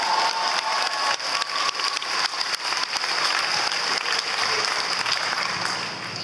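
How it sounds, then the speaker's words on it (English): Audience applause fills the room steadily for about six seconds, a dense continuous wash of many hands clapping that stays loud throughout and eases slightly at the very end. "You can clap now."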